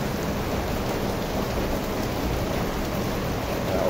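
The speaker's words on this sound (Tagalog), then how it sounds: "napakalakas po ng ulan" Heavy, constant rain in the Philippines, a dense even hiss of downpour on surfaces that stays at the same moderate level from start to finish.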